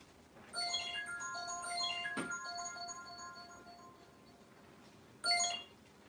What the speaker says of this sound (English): My wife's phone's ringing.